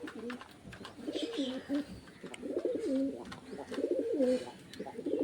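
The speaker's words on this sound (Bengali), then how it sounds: "নতুন পায়রা ডাকছে গাইস" Domestic pigeons coo in a home loft under heavy rain clouds, with three close, rolling coo phrases repeating in steady bouts over faint background chirps.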